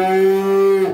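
A Simmental Malbor contest-class bull gives a single loud, sustained moo lasting about a second, steady and tonal before cutting off abruptly.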